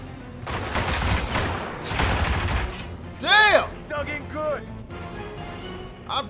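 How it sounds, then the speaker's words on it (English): Bursts of gunfire from the video game Hitman crackle in rapid volleys, with whooshing and ringing effects layered in and excited voices talking over the shots. "Who is shooting?"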